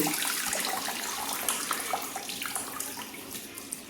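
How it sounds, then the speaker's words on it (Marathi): Vegetables are being washed in salted water, with a steady rushing, splashing flow like a running tap and faint clinks over it, continuous and close. "भाज्या एकदम स्वच्छ मिठाच्या पाण्याने धुवून घ्यायच्या"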